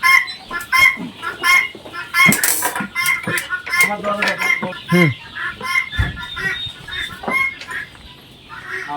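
Farm chickens cluck busily at close range on a poultry farm, a dense overlapping chorus with sharp bursts and occasional clatter.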